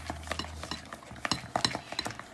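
Homemade ranch dressing with mayonnaise and pepper is stirred in a bowl, giving a brief series of close, wet scraping and tapping strokes at a moderate level, with no talking.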